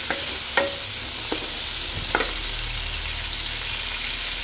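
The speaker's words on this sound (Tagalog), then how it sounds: "saka natin i-saute the chicken. So, garlic and onion guys." Chicken sautéing with garlic and onion in a pan, a dense continuous sizzle broken by a few sharp scrapes of a stirring utensil, close and with no voices.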